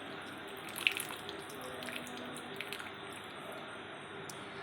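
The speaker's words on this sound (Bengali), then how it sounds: "তো এখানে আমি দেখো জল ঝরিয়ে নিচ্ছি।" Water drains and trickles off soaked sago pearls in a home kitchen, a steady faint running stream with occasional drips and small splashes, close and without speech.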